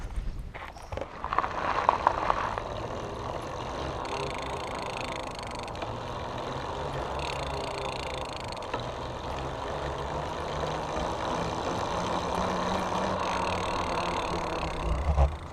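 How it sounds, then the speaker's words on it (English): A Polaris Sabre electric bike's motor hums steadily under load as it climbs a hill with large tires, a continuous low drone mixed with road and wind noise throughout. "you can hear the motor in action and see for yourself"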